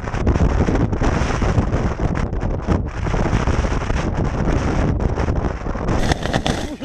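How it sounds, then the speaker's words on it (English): Strong storm wind roars continuously around a Vango 400 storm shelter in Siberia, loud and close with gusty buffeting and flapping against the mic throughout, with no voices. "This is what I would call a storm."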